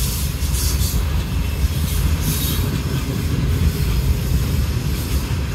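A northbound Norfolk Southern mixed manifest freight train carrying coiled steel rolls past on track one near a historic station, a loud, steady rumble of wheels with faint squeals and clatter throughout.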